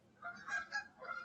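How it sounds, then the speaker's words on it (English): Geese honk a few times in quick succession, faint and distant in the background, the calls overlapping in a short burst. "I hear some geese in the background or something"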